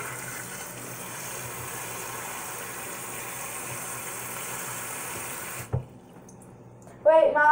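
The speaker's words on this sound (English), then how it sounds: "I'm putting some water" Water poured into a cooking pot while making potatoes, a steady running stream under a low background hum, ending with a short splash and a voice speaking near the end.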